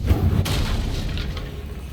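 In Hogwarts Legacy, a Confringo blasting curse sets off a deep booming explosion up close, one heavy thump followed by a rumbling tail that fades over about a second.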